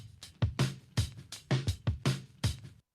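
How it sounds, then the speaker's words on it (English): A punchy drum break with kick thumps and snare cracks in a quick syncopated pattern, looping for a few seconds before stopping abruptly. "so we got this little drum break going"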